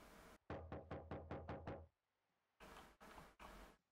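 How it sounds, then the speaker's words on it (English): Knocking on a door in the video game The Slasher: Camp Massacre: a rapid burst of about six sharp raps, a short pause, then three slower heavy knocks, loud and close, with no talking. "Someone's knocking"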